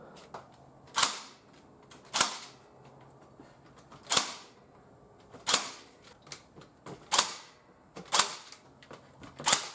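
Staple gun firing repeatedly into a garage ceiling while a Fleximounts GL1 ceiling storage lift is mounted, about eight sharp snapping shots spaced roughly a second or more apart, each ringing briefly against a quiet background.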